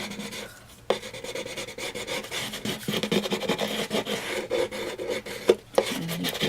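A bone folder rubbing along a paperboard edge to crease it, a steady close scraping rasp with a few sharp taps between strokes.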